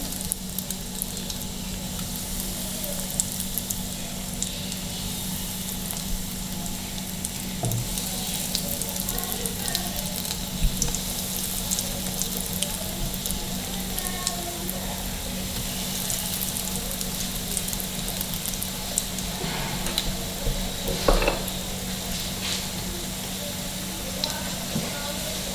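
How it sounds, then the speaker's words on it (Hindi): Chicken nuggets deep-frying in hot oil over a low flame, a steady close sizzle and crackle that runs the whole time with an occasional faint clink. "ऑयल मेरा गर्म हो चुका है, इसके अंदर हम नगेट्स डालेंगे"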